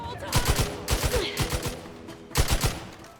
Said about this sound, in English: Wasted so much ammo trying to shoot this person.